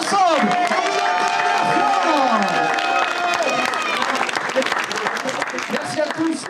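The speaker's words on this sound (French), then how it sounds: "je crois qu'on peut s'applaudir tous ensemble" A crowd at Paris Games Week 2025 applauds at the end of a day of gaming matches and show, producing loud, sustained clapping mixed with cheers, whoops and excited shouting voices.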